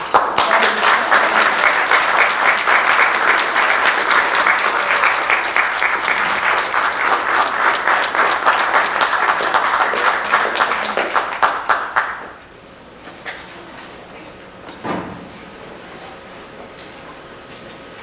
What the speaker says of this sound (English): I would like to have the members of Voz y Vida come up because they all deserve an applause